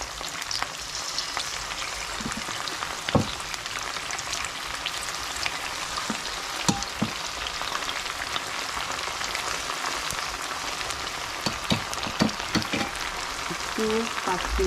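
Chicken pieces sizzle and crackle steadily in a hot pan, a dense continuous frying hiss with scattered sharper pops throughout.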